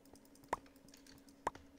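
Two sharp, distinct keyboard key clicks come about a second apart on a computer keyboard during Minecraft play, faint against a quiet background.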